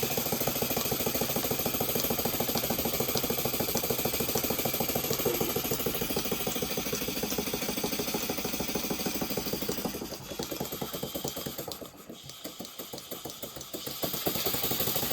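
An Alexander Karnes engine runs steadily in a workshop, a loud, continuous mechanical chugging with fast regular beats, dipping briefly near the end before picking back up.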